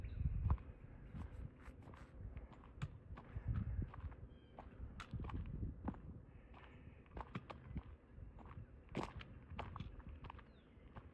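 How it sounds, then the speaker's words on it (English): Horse hooves clop at a walking pace, faint and a little distant, with irregular steps and quiet rustling in the background. "The horses are up over there,"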